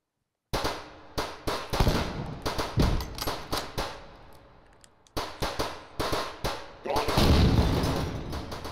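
Bolt-action rifle shots in a first-person shooting game ring out as a series of sharp, loud cracks, roughly a dozen in uneven succession with brief pauses between them, each with a short echoing tail.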